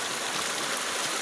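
Water of the Laya River in Talisay City, Cebu, flowing in a steady, close rushing babble with no talk.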